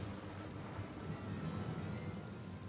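Steady rain in the Final Fantasy XIV video game, a continuous even hiss of falling drops that holds at a constant level throughout with no other sounds.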